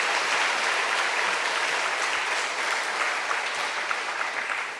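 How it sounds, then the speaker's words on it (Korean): A church congregation claps together in sustained, dense applause during a worship service, steady and fairly loud throughout with no voices over it. "하나님 앞에 영광의 박수하겠습니다."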